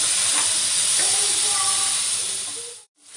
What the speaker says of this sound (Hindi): पनीर को हम थोड़ा सा सैलो फ्राई कर लेंगे